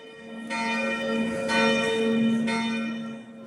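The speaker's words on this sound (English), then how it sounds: "The bell rings." Church bell in Zug, Switzerland, ringing with three clear strikes about a second apart, each leaving a long, steady humming tone that hangs between strokes.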